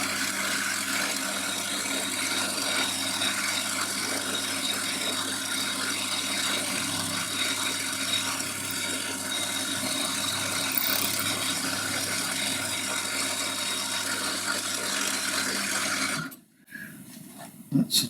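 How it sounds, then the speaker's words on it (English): A milling machine with a 12mm cutter bores a hole through the middle of a metal tap extension key, a loud continuous grinding whir that holds steady before cutting off near the end. "I've changed for a 12mm milling cutter, and all I'm doing is making"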